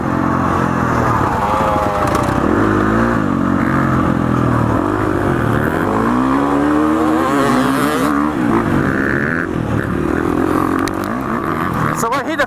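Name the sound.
2019 KTM 350 XCF dirt bike engine under throttle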